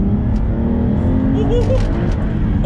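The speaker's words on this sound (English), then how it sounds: "Build the revs." An Aston Martin DBS fitted with carbon ceramic brakes revving on a wet Scottish road, a loud close engine roar that builds steadily, with a voice talking over it.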